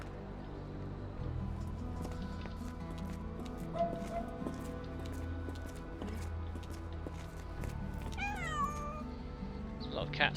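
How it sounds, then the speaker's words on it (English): Cats meow repeatedly in a busy outdoor setting, several calls rising over a layered background of ambience and music, with a few clopping steps nearby. "There's a lot of cats around here."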